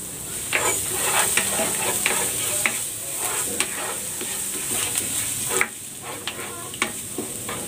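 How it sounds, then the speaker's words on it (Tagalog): Garlic sautés in cooking oil with a constant bright sizzle, broken by repeated sharp taps and scrapes of a spatula stirring in the pan, heard close and with no voice. "Maglalagay ako ng cooking oil. Igigisa ko na tong bawang."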